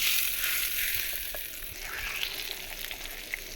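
Chana dal and curry leaves fry in hot oil in a pan for a tempering, giving a steady bright sizzle with faint occasional stirring taps.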